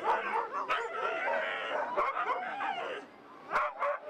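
Sled dogs at a pre-race gathering for the Finnmarksløpet 600 km race, barking and yipping in overlapping bursts close by, with excited whines between the barks.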